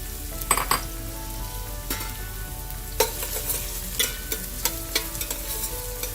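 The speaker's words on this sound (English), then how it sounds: "I'm going to add the onions." Onions frying in hot olive oil in a large pot, crackling sizzle punctuated by repeated clinks and scrapes of a utensil against the pot.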